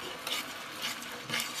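Sauce thickened with starch slurry stirred in a wok, giving a soft scraping swish with brief louder strokes near 0.3, 0.9 and 1.4 seconds over a faint sizzle, close by and without talk.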